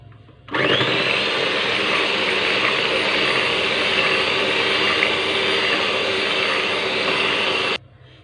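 An electric beater whisks cake batter flavoured with vanilla essence for a Black Forest cake, a steady, close motor whir that starts abruptly, holds for about seven seconds and cuts off cleanly.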